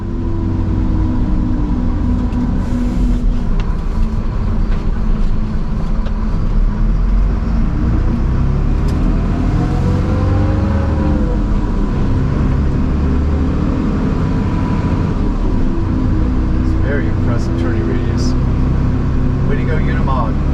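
A Mercedes-Benz Unimog U500 North American truck drives with a steady, loud low engine rumble and road noise that carries throughout, while someone talks over it.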